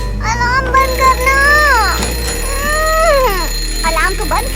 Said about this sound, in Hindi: अलार्म बंद करना।